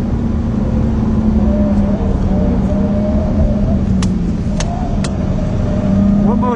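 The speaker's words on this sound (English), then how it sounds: "You can hear it down, it upshifted, you can hear it downshift, match travel by itself." A 2009 Cadillac CTS-V engine drones steadily from inside the car during a test drive, its pitch rising and dropping as the transmission shifts gears, with light road noise throughout and no talk.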